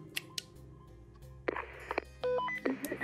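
Telephone dialing in the horror video game Hotel Greenwood: a series of short keypad tones and clicks, followed by a steady dial tone with brief beeps near the end, heard fairly close with no talk.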